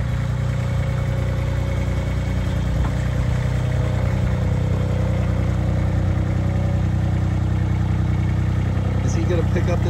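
A new Baumalight mini skid steer engine runs steadily nearby with a constant chugging rumble, while people talk over it.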